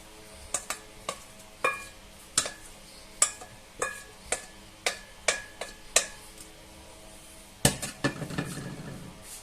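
Spaghetti with tuna and peppers being stirred together in a pan: a steady run of about a dozen spoon-on-metal knocks and scrapes at a close, even pace, then a brief rougher burst of sizzling stirring near the end.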